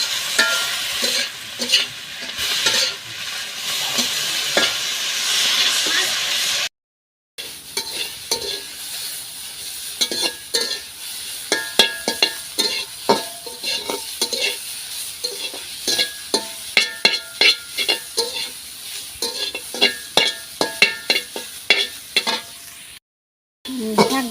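Leafy greens stir-fried in a pan in a Bangladeshi village kitchen: a continuous close sizzle broken by frequent scraping and clattering stirs, with two brief drop-outs, and no talking.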